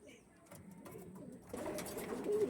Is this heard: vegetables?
no